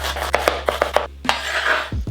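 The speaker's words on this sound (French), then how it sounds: "On fait de la place, on tourne et on coupe grossièrement." Knife roughly chopping bell pepper on a cutting board, about half a dozen quick sharp knocks in an uneven rhythm followed by a scraping sweep across the board, close and clear with no talk.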